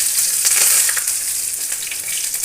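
Curry leaves hit hot oil in a kadai and sizzle hard, a loud, close, steady hiss with bright crackling that eases slightly as it goes on.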